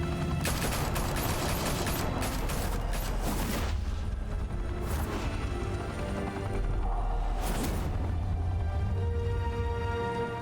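Gunfire in Batman: The Telltale Series on Xbox One X rattles out in several rapid volleys of sharp shots, with short pauses between them, over a steady bed of sustained musical tones.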